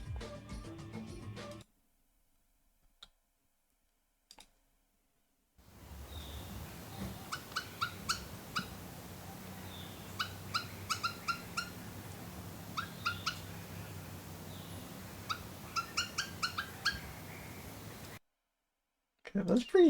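Bird song in an Andean cloud forest: short bursts of sharp, high repeated notes come in clusters at regular intervals over a soft hiss, fairly faint and distant-sounding.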